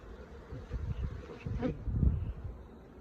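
Low, close buzzing of many honey bees in a Flow Hive, a soft continuous drone that swells and fades slightly.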